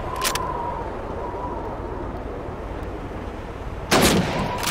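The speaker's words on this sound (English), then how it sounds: "All right, fire at one of those bears again." Rifle shots fired at teddy bear targets on a World War II training range in Call of Duty 2: two loud, sharp single shots about four seconds apart over steady ambient background noise.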